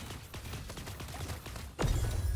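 Rapid gunfire from a mecha in a shooter video game, a dense run of bursts that is cut by a louder, heavier blast near the end and then continues as a low rumbling roar.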